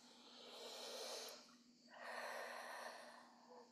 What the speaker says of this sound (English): Take a deep breath and release.